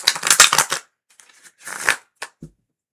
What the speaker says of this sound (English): We shuffle again.